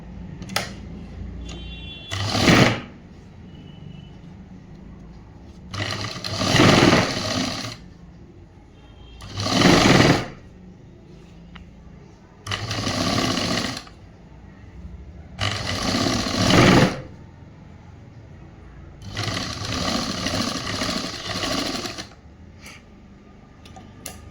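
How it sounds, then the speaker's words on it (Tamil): A tailoring sewing machine stitches a boys' government school uniform shirt in several loud, whirring bursts of a few seconds each, separated by quiet pauses. "இது அப்படியே வச்சுட்டு டைட்டாக ஒரு தையல் போடுவோம்"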